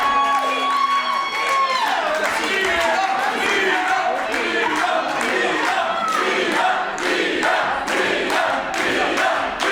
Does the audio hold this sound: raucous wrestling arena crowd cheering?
yes